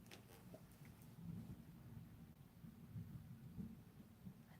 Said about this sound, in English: I think it's a thunder.